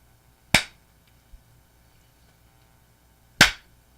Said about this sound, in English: Make a clapping noise.